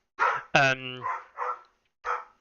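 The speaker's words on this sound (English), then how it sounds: "My dog has just got back from her walk." A dog that has just come back from a walk gives a few short, sharp barks close to the microphone, with a brief pause between bursts.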